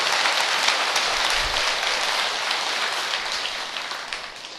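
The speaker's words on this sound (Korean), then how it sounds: "큰 박수로서 한번 감사를 드리는 게 좋을 것 같습니다" An audience at a Buddhist dharma talk claps steadily in dense, even applause that holds for several seconds and slowly fades a little.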